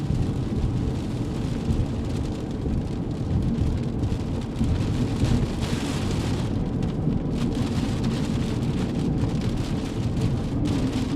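Heavy rain pounds steadily on a car during a storm chase through eastern Colorado supercells, a dense, loud, continuous roar with occasional low rumbles.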